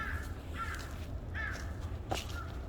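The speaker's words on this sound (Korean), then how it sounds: "이곳에는 까마귀가 상당히 많습니다." Crows caw on a mountain in autumn, several harsh calls ringing out at irregular intervals, fairly near, over a soft outdoor background with a faint step or rustle.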